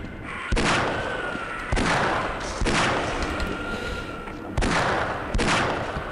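Loud, booming gunshots in the video game Half-Life, about five separate blasts at irregular intervals, each with a sharp onset and a long decaying tail.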